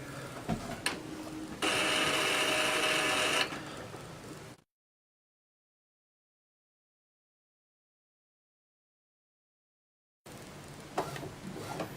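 An Epson inkjet printer fitted with a CIS continuous ink system runs while its cartridges charge. A steady mechanical whir rises in the middle of the stretch, there are a few ticks and clicks, and then the sound cuts out to silence before resuming.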